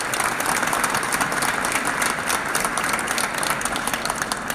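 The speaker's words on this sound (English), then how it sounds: "I think we should give him another round of applause for being a great job." Audience applause at a West Virginia event with the governor recognizing high schools for graduation rates, loud dense clapping from a close crowd that continues steadily throughout, with no talking over it.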